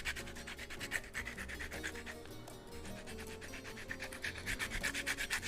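A zester rubbed back and forth over lemon peel, giving a steady rhythmic scraping rasp at close range, stroke after stroke with faint background hum.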